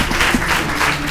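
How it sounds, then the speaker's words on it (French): Brief, lively applause from the audience at the end of a televised children's quiz match, a dense burst of clapping with crowd noise. "Maximum d'applaudissements."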